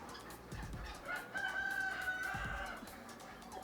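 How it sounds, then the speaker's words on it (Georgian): A rooster crows among caged geese, turkeys and other poultry in a market warehouse, one drawn-out crow rising over a steady background hubbub of birds. "მამლის ყივილი გესმით?"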